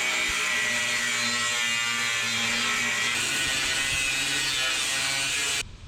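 Cutoff wheel slicing through a custom rear bumper for a 1977 Datsun 620 minitruck, a loud continuous high grinding whine running steadily for several seconds before cutting off abruptly near the end.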